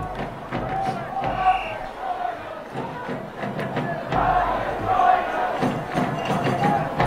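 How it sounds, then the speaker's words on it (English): A lively stadium crowd at a nighttime soccer match between Comunicaciones FC and Chattanooga FC, a loud continuous roar of voices with shouts and thumps rising and falling, with commentators talking over it. "It's a lively crowd here tonight."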